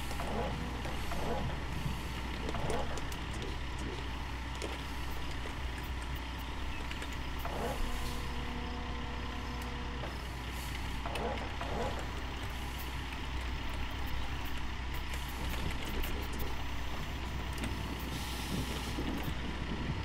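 An excavator engine in the Gold Rush video game drones steadily at a low, rumbling idle throughout, with someone talking over it.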